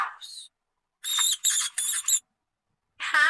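A mouse gives several short, high-pitched squeaks in quick bursts separated by brief silences, close and fairly loud.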